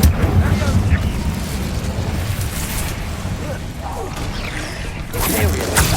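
An Incendio fire spell in Hogwarts Legacy gives off a roaring, rumbling whoosh of flame with crackling bursts, loudest at the start and again near the end, under in-game voices.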